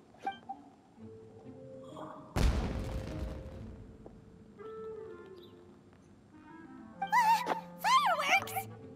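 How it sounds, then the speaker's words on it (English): Fireworks burst in Genshin Impact on PS5: one loud broadband blast at mid-clip, with crackling decay under game music, then bright whistling rising tones near the end. "It sounded like fireworks."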